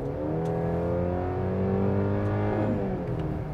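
A Mercedes-Benz GLC engine revs hard under full acceleration, a loud rising drone with a shift near the end, heard from inside over constant road noise.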